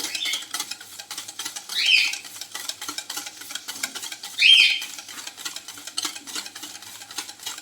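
Cake batter of jaggery and wheat flour is mixed in a bowl, with soft, rapid, rhythmic scraping and tapping of a utensil close by and two brief louder swishes. No one talks.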